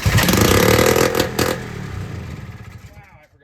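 Loud, raw engine roar from an abandoned 6x6 ATV running without its exhaust hooked up after carb cleaner is applied; a harsh clattering blast that eases off and dies away after a few seconds.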